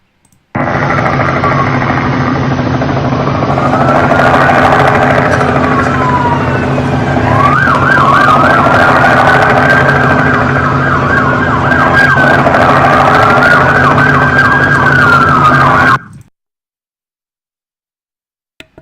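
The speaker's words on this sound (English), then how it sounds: "The lovely sound of police helicopters, police sirens." Loud police sirens wail continuously nearby, cycling through rising and falling tones over a rumbling engine, then cutting off abruptly into silence.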